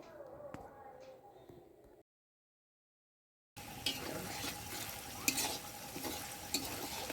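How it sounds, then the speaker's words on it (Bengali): Potatoes frying in a pan at a picnic before meat is cooked, a faint sizzle with stirring, then a second of silence, then a louder, rougher sizzle with scraping; a voice is faintly present. "তার জন্য আগে আলুটা ভেজে নেওয়া হচ্ছে।"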